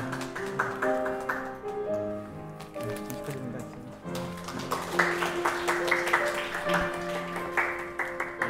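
Applause rises amid steady music and chatter at a training graduation ceremony, the scattered claps most evident in the second half and blending with room noise.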